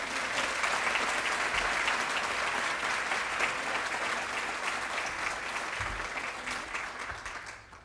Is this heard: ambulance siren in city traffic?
no